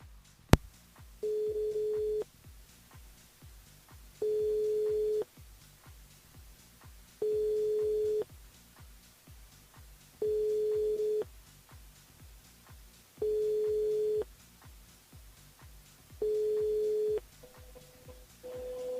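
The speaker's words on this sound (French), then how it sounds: "Elle appelle Priska du côté de Brapanon. C'est parti, Priska du côté de Brapanon." A telephone line rings out during a call-in on a radio show, giving six evenly spaced ringing tones about every three seconds, clear and fairly quiet over a faint background.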